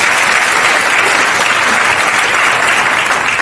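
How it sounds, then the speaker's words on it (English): Loud, dense applause fills a town hall crowd, a continuous roar of many hands clapping at steady intensity from start to finish. "Can we give all of them another round of applause"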